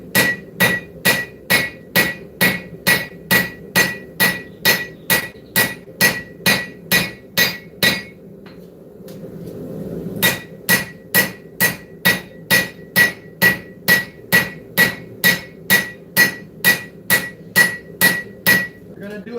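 Steady, evenly spaced hammer blows ring out on hot steel while a blade's distal taper is forged, about two strikes a second, loud and close, with a brief pause midway before the rhythm resumes.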